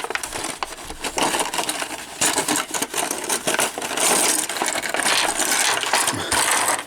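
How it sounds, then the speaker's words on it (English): Plastic bubble packaging on a vintage G1 Transformers Starscream toy being worked open to remove its accessories: continuous loud crinkling, cracking and scraping of stiff plastic up close, with no pauses. "I got to be careful because they're in this bubble part, and I don't want to rip it completely off"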